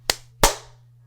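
Two sharp, loud hand claps a fraction of a second apart, made by people clapping together on a count in a quiet room, each a crisp crack with a short decay.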